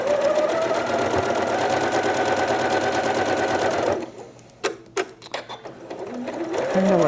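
A sewing machine stitches a quilt block in a fast, steady mechanical whirr for about four seconds, then it stops and a few brief clicks and handling noises follow.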